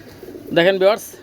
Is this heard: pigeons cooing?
yes